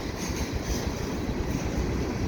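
A CN freight train hauling old MR-90 passenger cars passes a street overpass, its steady, loud rolling roar and rumble filling the whole stretch without a break.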